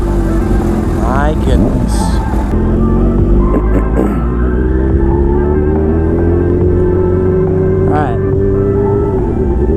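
A supercharged Kawasaki Ninja H2 motorcycle engine drones loudly and steadily, its pitch rising gradually while being ridden, with a rider speaking briefly over it.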